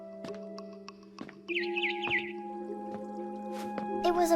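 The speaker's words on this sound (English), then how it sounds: "Then I heard chirping outside my window." A barn swallow in What Remains of Edith Finch chirps in a quick warbling run of high notes over sustained musical tones, with soft clicks and drips around it.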